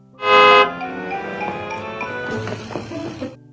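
A car horn sounds in one loud, sustained blast near the start, followed by busier, lower horn-like tones and background noise as the driver keeps honking.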